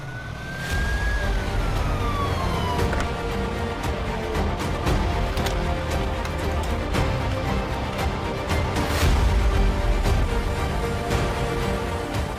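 An ambulance siren wails with a falling tone near the start, then blends into loud, dense traffic noise and rumbling engines for the rest.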